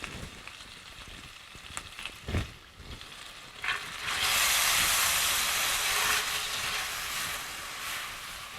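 Butter melting in a pan holding bacon and shrimp drippings: a few soft clicks and taps, then a loud rising hiss and sizzle that holds steady close up, with no talking.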